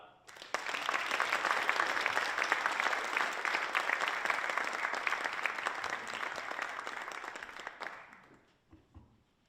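A university lecture audience breaks into sustained, full applause to welcome a returning astronomy speaker, a dense wash of clapping that holds steady for several seconds before fading out.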